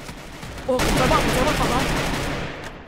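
Gunfire bursts in the Free Fire battle royale game, a dense rattling volley beginning abruptly and continuing for about two seconds, loud and close, with a player speaking briefly over it.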